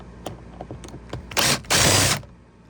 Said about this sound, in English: There's also a screw right there, so let's take that off.